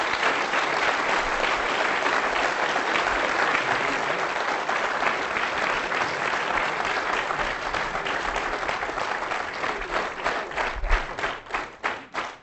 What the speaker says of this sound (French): j'ai envie que vous l'applaudissiez très fort